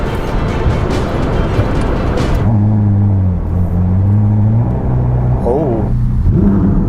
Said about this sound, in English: But since this is a Ferrari, let's throw her into life.